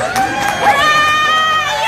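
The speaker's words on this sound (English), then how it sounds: "this is the perfect time to give a round of applause to the guys and gals who run this place" Riders on the final trip through The Great Movie Ride cheer and applaud together, a loud, sustained crowd roar of overlapping voices and high whoops filling the whole moment up close.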